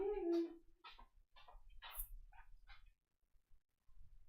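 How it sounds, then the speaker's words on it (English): A dog gives a few short, quiet barks and whimpering yips asking for more food at an evening meal, close by in a quiet room, with brief gaps of near silence between them. "You just want to bark at me to have more food."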